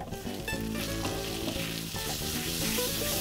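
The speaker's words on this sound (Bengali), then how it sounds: "গুঁড়ো মশলাগুলো এবার দিয়ে দেবো। জিরে, ধনে, হলুদ, লঙ্কা আর রঙের জন্য সামান্য কাশ্মীরি লঙ্কা গুঁড়ো।" Ground cumin, coriander, turmeric and chilli powder, with a little Kashmiri chilli powder, sizzle in hot oil in a kadai for a spicy mutton ghugni, a loud, dense, steady crackle with no one talking.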